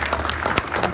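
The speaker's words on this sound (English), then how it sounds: "Can we have a big round of applause for Mark Burton?" Audience applause at a science cafe talk, a dense steady patter of many hands clapping throughout, fairly loud and close, with no speech over it.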